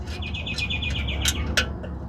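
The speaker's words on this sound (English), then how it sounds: "The bird's making fun of me." Outdoors beside a car repair, a bird chirps in a steady run of quick repeated notes and then gives a few sharper calls, fairly close and loud over low background noise.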